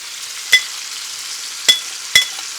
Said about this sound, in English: We're about midway through cooking our onions.